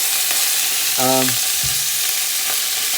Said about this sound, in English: The reason it's sizzling is because I've rinsed the cauliflower.